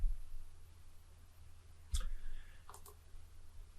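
A computer mouse clicks twice, quiet and close, over a steady low hum while configuring an EtherCAT network for a Commander C300 open-loop drive.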